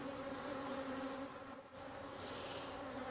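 A crowd of honey bees hums around a row of beehives, a steady, close drone with a clear tonal buzz that dips briefly midway before resuming.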